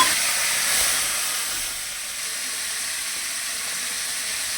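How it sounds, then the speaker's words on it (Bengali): A fish head frying in spices, a loud hissing sizzle as it hits the hot pan that settles into a steady, softer sizzle, close with no talk. "মাথাটাকে দিয়ে দিলাম, এটাকে ভালো করে ভাজবো"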